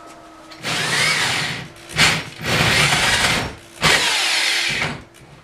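A power drill with a 1.5-inch bit whines and grinds through a live-edge walnut bartop in three long bursts separated by short pauses, loud and close, with no talking.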